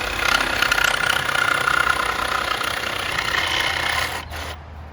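A jigsaw fitted with a Diablo T-shank blade cuts a line through 1/4 inch metal, a loud, steady rasping buzz held for about four seconds before it winds down and stops.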